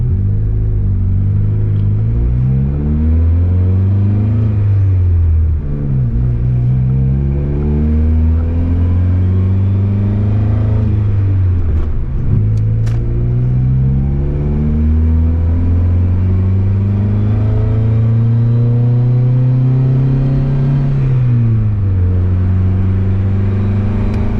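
A car with a built single-cam turbo engine running around 30 psi of boost accelerates hard, its loud, close engine note climbing repeatedly through the gears with brief drops at each shift.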